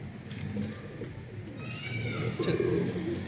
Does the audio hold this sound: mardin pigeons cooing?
yes